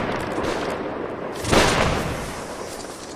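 A musket volley fires in the Napoleonic Wars game: one loud, broad crack about midway, standing out from a steady background of battlefield noise.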